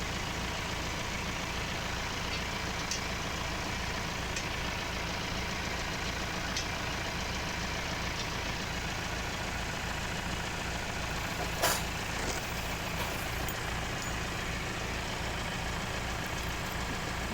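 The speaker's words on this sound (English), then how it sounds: "the engine is still running" A Mahindra Roxo car engine idling with a steady, low rumble at close range, with faint clicks and a brief clunk partway through.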